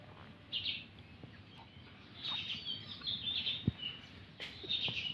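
A pet bird gives a few thin chirping calls over a low background rumble, short bursts scattered across a few seconds, fairly faint.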